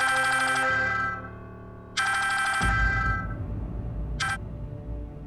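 An electronic telephone ringtone sounds loud and close in repeated bright bursts, the last one brief, before the clip settles into a lower background hum.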